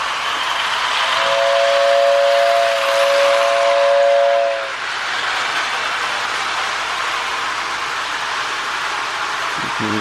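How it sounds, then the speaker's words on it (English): A Lionel 1666E toy train with a whistle tender rumbles along the track, its loud, steady two-tone whistle sounding for a few seconds before cutting off as the running hum continues. "This one has a really good whistle tender to it too."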